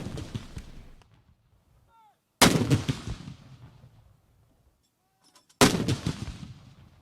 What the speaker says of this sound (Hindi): सूबाई दारुल-हुकूमतों में 21-21 तोपों की सलामी दी गई।